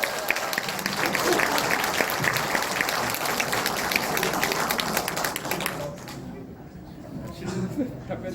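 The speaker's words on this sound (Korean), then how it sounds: "응원의 박수 한번 쳐주십시오" An audience at a book concert breaks into sustained, dense applause that fades away toward the end.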